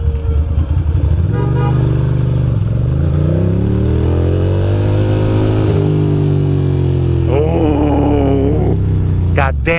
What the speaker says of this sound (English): My bike just sounds like a bass.